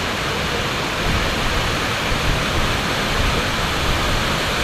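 The Blue Pelet waterfall in Lombok roars as a loud, steady wash of falling water, unbroken and close, with no voices over it.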